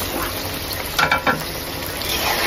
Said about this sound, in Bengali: এখন আমি মাছগুলো ছেড়ে দেবো।